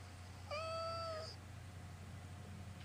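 A cat lets out a single clear, drawn-out meow lasting under a second, close and alone over a quiet low hum.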